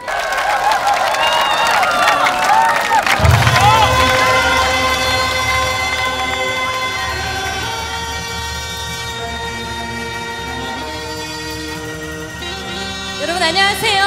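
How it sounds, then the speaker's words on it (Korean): Audience at a Korean commemorative concert applauding and cheering to welcome a gugak singer and a popping dancer to the stage, a dense crowd roar that swells early and then fades under sustained instrumental music. "여러분 박수 부탁드립니다."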